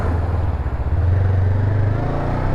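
A 2022 Honda CB500F motorcycle out on a ride, its engine a loud, close, steady low drone that swells slightly partway through, with no one talking.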